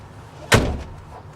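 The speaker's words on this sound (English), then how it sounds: "I'm gonna close my door, it's a little bit cold." A van door is pulled shut with one solid, fairly loud thud that fades quickly into quiet background.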